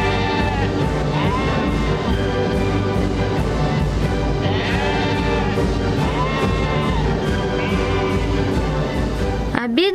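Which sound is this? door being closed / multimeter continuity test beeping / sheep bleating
sheep bleating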